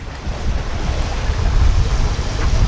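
A sailboat runs under mainsail at sea at about 4.5 knots in roughly 8 knots of wind, with a steady rush of wind and water washing past, loud and continuous.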